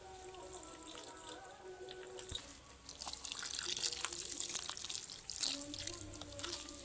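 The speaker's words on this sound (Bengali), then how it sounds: "এবার জল দেব।" Water poured from a tap or jug into flour batter for palm fritters in a home kitchen, giving a steady, close trickle and splash that runs for several seconds, with brief clinks mixed in.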